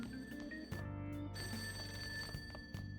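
A telephone rings repeatedly in Persona 5 Royal, a bright electronic bell trill pulsing in steady bursts over soft background game music, fairly quiet and with no voices.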